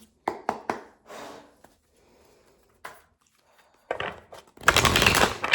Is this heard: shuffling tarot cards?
yes